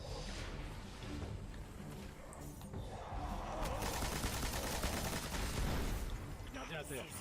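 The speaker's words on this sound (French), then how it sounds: "Fais gaffe, il tire." Enemy gunfire rattles through the Destiny video game in dense, steady bursts amid loud battle noise, with a player's voice talking briefly over the shooting.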